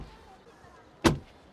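A Tesla Model 3's front door closes in a single solid thud, heard once near the end after a quiet lead-in.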